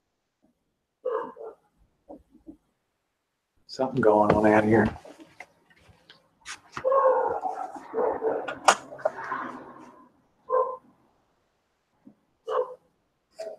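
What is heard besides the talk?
dog barking outside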